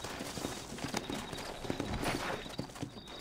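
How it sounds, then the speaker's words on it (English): Horse hooves clip-clopping in the video game Red Dead Redemption, a close, steady run of hoof knocks under a dense noisy wash, without speech. "Looks like Carlos left us some horses."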